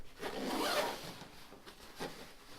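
A zipper closes the extra compartment of a Knack backpack, giving one long close rasping pull followed by a short second tug, with no talk.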